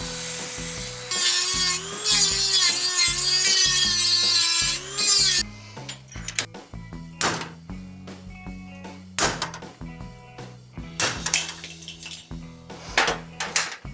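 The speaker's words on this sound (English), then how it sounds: "we're going to attempt to drill this out and tap it so they'll screw in" A power drill drilling out a bolt on a car's worn wiper transmission whines loudly for several seconds with harmonic tones, then stops, followed by scattered metallic clanks and handling noises.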